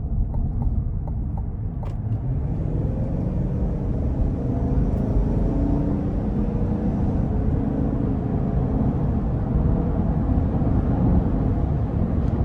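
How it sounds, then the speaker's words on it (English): A 2024 GMC Yukon AT4 with the 6.2 engine pulls onto the interstate under throttle, giving a steady, loud low rumble heard from inside the cabin that holds a rising drone throughout. "we're gonna give it some throttle getting on the interstate here"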